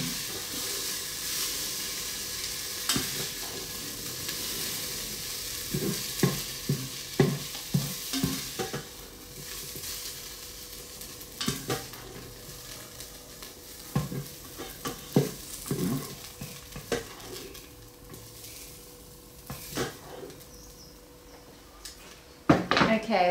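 Onions frying and browning in a pan during spaghetti bolognese prep, a steady soft sizzle broken by utensil scrapes, stirring clatter and pan knocks, with a person talking over it.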